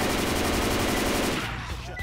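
Rapid automatic gunfire in the video game Left 4 Dead 2, loud sustained bursts of evenly spaced shots that thin out toward the end, under faint voices.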